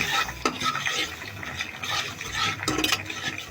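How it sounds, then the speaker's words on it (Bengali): Chilies, ginger and garlic are stirred in a pan, with a spoon scraping and rustling steadily close by and a couple of sharper clinks against the metal. "এখন এগুলো একটু নেড়ে নিই।"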